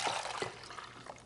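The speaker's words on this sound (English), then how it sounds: "Add the water to the reservoir." Water poured into the reservoir of a Bella One Cup coffee maker gives soft, faint splashes and trickles, with a few brief drips, close by and alone.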